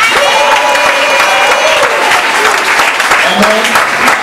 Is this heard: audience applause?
yes